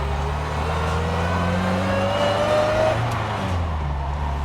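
A 1959 MGA Twin Cam vintage racer pulling hard in first gear, its engine note climbing steadily in pitch as revs rise, loud and close from inside the car, with no talk.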